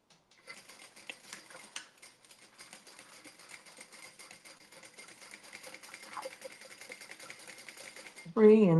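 A sewing machine runs a reinforcing stitch, its fast steady needle clatter continuing for about eight seconds at moderate level before stopping, followed by a loud voice burst at the end.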